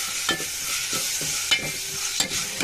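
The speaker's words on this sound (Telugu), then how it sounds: "ఉల్లిపాయలు, పచ్చిమిర్చి వేగుతున్నాయి." Onions and green chillies fry in a pan for a meal maker curry, a continuous close sizzle broken by several soft scraping stirs of a spatula, with no talking.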